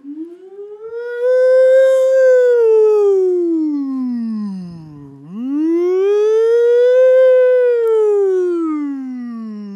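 A voice imitates an American siren wailing, rising and falling in two long, loud sweeps with a brief dip between them, nothing else heard.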